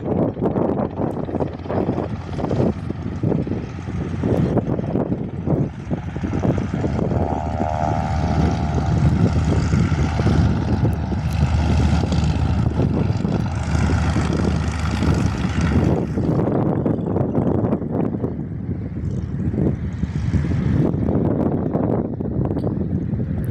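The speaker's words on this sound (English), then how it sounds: "here is the B-55 Baron with winglets" A Beechcraft B55 Baron twin-engine propeller plane with winglets drones loudly and steadily nearby at an airfield on a windy day, its engine hum swelling and fading over gusty wind noise.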